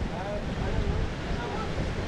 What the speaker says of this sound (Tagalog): Lakas ang hangin, matatangay ako.